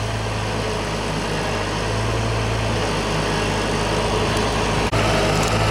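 A 1939 tractor engine runs steadily at a constant idle, a loud, even drone with a deep low rumble that holds unchanged for several seconds. A single brief dip comes near the end, and there is no talk.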